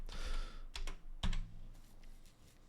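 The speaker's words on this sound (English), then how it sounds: "Are you typing these in?" A few quick bursts of clacking keys on a computer keyboard, close and fairly quiet, with short pauses between the typing runs and no talk.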